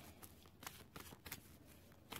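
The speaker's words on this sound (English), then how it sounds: "so I'm just shuffling them" Healing with the Fairies oracle cards being shuffled by hand, a faint, close series of soft riffling bursts in uneven rhythm, with no voice over them.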